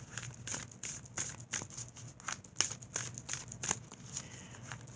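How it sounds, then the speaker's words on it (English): Oracle cards shuffled by hand, a rifle-style shuffle done in the lap, giving a run of quick papery riffles and soft flutters, close and fairly quiet, with no talk. "Give these a good shuffle."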